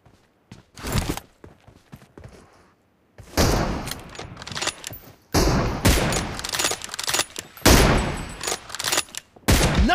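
Repeated bursts of gunfire from a PUBG Mobile match, including an M24 sniper rifle, come in loud clustered volleys separated by short gaps, with rapid cracks and echoing tails filling most of the stretch.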